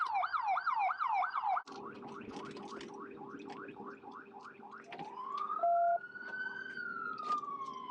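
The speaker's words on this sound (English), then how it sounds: "Can you turn the sirens off?" A wailing police siren during a high-speed chase cycles rapidly, then shifts to slower sweeping wails and a long rising tone, loud and close with no talking.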